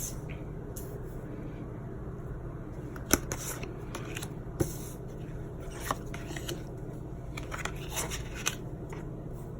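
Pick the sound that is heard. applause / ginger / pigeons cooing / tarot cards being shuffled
tarot cards being shuffled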